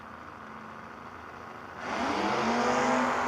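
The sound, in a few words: drag race launch, Camaro versus Mustang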